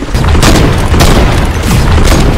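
Video game gunfire, loud booming shots in quick succession, heavy and close, with no talking.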